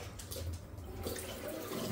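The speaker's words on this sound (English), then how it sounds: "Get the old hot water on." Hot water runs from a kitchen tap into a sink for washing up, a steady soft rushing and splashing that continues throughout without talk.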